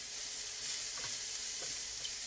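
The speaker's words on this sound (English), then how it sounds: "you want to start tossing it into the other vegetables" Vegetables being stir-fried in hot oil in a pan as chicken stir-fry is made, a steady sizzle with a few soft stirring and tossing scrapes, at low level, no voices.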